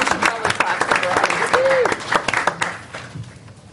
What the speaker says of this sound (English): We should probably clap for Brian.